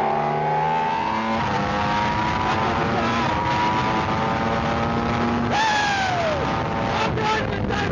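Formula One race car driving at speed toward the Dunlop Bridge, a continuous close onboard engine scream with gear changes as the pitch climbs and drops, with speech over it.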